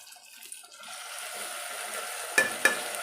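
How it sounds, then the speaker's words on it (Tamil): Brinjal and tomato pieces fry in a pan for a goat brain brinjal kulambu, a soft sizzle swelling up from quiet, then two sharp spatula knocks against the pan near the end. "சேர்த்துட்டு நல்லா மிக்ஸ் பண்ணி கிளறி விட்டுக்கலாம்"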